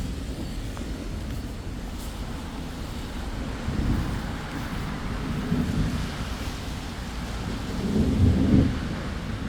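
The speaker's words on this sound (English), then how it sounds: "It's still raining." Steady rain pours down through a storm, with low rumbles of thunder swelling around the middle and again near the end, a continuous broadband wash close by and no talking.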